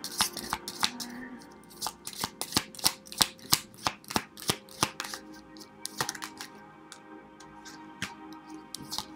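Deck of cards shuffled up close, with a rapid series of crisp riffling snaps and flicks in an uneven rhythm, fairly loud and with no talk over it.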